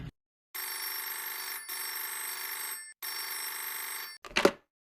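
An old-style telephone bell rings in two long bursts separated by a short pause, loud and close, followed by a brief clatter as it stops.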